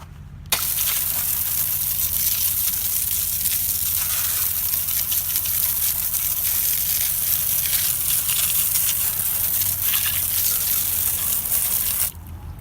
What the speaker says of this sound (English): I am going to just be using a normal garden hose, nothing special, nothing high pressure.